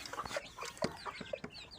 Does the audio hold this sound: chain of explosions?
no